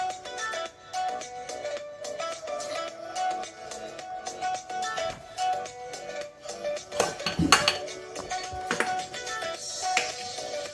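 Bourbon cake batter is mixed in a bowl, giving steady repeated scraping and clinking of a utensil against the bowl, fairly close and continuous, with a few sharper knocks near the end.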